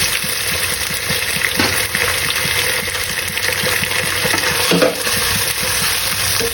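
Ginger-garlic paste dropped into a pan of frying onions, a steady bright sizzle with stirring scrapes and a brief splashy hiss as it goes in; no voices over it.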